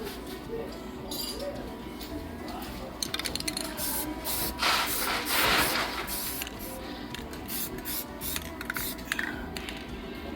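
Aerosol spray paint hissing onto a cleaned truck mud flap in steady bursts, close and loud, with someone talking over part of the spraying.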